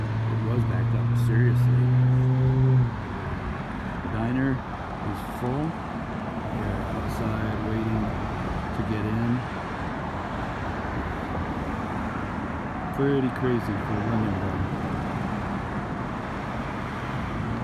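Road traffic backed up through a small Vermont town: a steady wash of car engines and tyre noise, with one vehicle louder and closer at the start, while someone talks over it.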